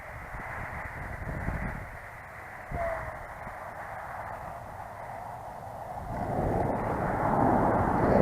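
A radio-controlled Flitework T-28 model airplane in Red Bull livery comes in to land with the throttle cut, its engine drone heard outdoors under buffeting wind noise and swelling again toward the end.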